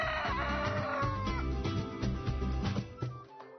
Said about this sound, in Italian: Il canto del gallo.